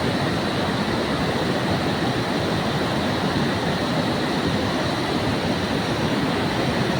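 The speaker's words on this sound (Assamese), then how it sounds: "আৱাজ চাইছে নদীৰ, কি আৱাজ।" A river rushes near a high waterfall in Arunachal, a dense, loud, continuous roar of water that stays steady throughout with no other sounds.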